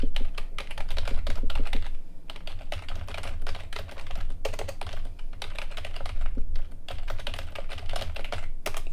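Steady, rapid typing on a computer keyboard, dense continuous clatter of keystrokes with brief lulls, close and fairly loud, with no voices.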